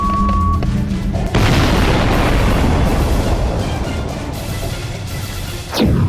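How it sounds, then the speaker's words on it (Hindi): A huge, sustained explosive roar at sea off the coast of Florida erupts after a brief quiet tone, rumbling loudly for several seconds with a dense low-end blast, then a sharp whoosh near the end. "समंदर वाले वॉर जोन में जो भीषण विस्फोट किया गया"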